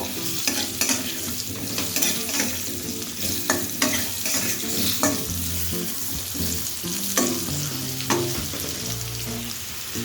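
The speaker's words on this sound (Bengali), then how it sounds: "এবার আলুটাকে খানিকক্ষণ একটুখানি ভাজা করে নেব।" Cut potatoes frying in oil with nigella seeds in a pan, with a steady soft sizzle and repeated scraping of a spatula stirring at an irregular rhythm, close by and with no talking.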